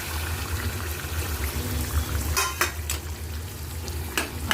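Eggplant pieces tipped into a pan of masala frying in oil, producing a continuous moderate sizzle with a few sharp scraping and tumbling bursts as they land and are moved.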